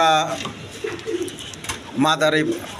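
Large pigeons coo close by in soft, throaty bursts, one call near the start and another near the end.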